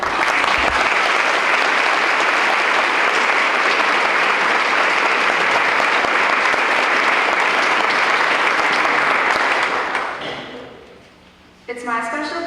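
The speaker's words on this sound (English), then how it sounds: "Let's give the Norfolk Myers Cadets a round of applause." Sustained, loud applause from a ceremony crowd for the Norfolk Myers Cadets at a veterans recognition event, holding steady for about ten seconds before fading out, followed by brief talking.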